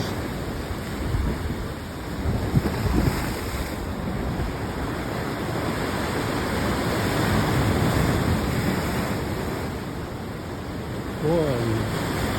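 Waves of the Pacific Ocean rolling onto a Hawaii shore, a continuous roaring wash of surf with gentle swells and fades, heard close up amid light wind buffeting, with no talking.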